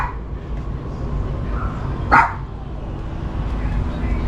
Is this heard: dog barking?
yes